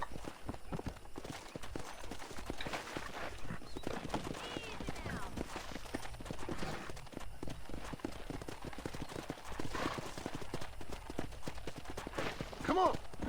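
Horse hooves clip-clopping during horse wrangling in the Red Dead Redemption video game, a quiet steady trot of hoofbeats with occasional whinnies and game sounds, under a voice.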